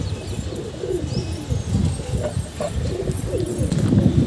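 Soft, low pigeon cooing repeats in short murmuring phrases against steady outdoor background noise, with faint chirps overhead.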